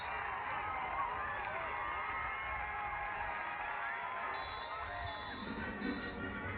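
A large crowd at an NCAA men's lacrosse quarterfinal between Virginia and Georgetown roars and cheers steadily after a Georgetown Hoyas goal, a dense and fairly distant wash of voices and whoops.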